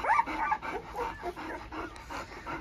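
A thirteen-day-old black brindle Canary Mastiff (Presa Canario) puppy whimpering, yipping and panting up close, short squeals and breathy noises in quick succession, fairly loud with no talking.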